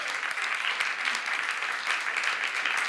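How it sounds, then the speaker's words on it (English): An audience at a motivational talk gives a full round of applause, steady and dense clapping that fills the room without pause. "Give him another round of applause for that."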